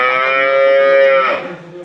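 A dairy cow on a local farm lets out a single loud, close, drawn-out moo that holds steady, then breaks off into a rougher tail.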